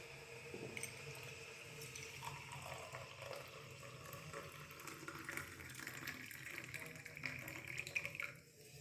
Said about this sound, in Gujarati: તો આપણે જે લીંબુ નાખ્યું હતું એની અંદર આપણે નાખશું ગરમ પાણી.